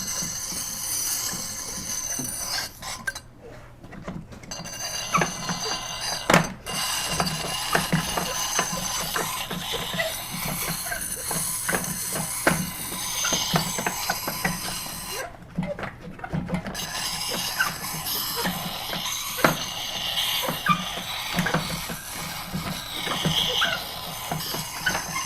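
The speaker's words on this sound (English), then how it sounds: "Now let's do a little bit of grinding on it." A hand-forged knife blade is ground on a grindstone in a blacksmith shop, a continuous close rasping and scraping with irregular strokes and clicks, broken by two short pauses.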